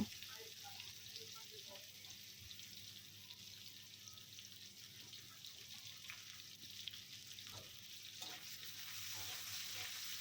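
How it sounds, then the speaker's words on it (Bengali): Potatoes frying in oil with salt and turmeric in a home kitchen, a faint continuous sizzle heard from close by with a few soft stirring touches. "এখন আমি আলুগুলো ভেজে নেব ওই তেলেই"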